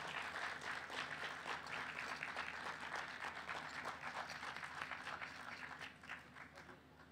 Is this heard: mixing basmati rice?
no